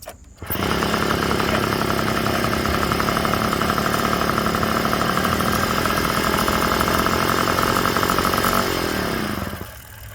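A small Puch moped engine sputters to life and settles into a steady, loud idle for several seconds before cutting off.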